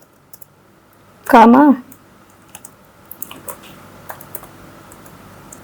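Typing on a computer keyboard while working in Excel: scattered light key clicks, soft and close, tapping irregularly after a brief spoken word.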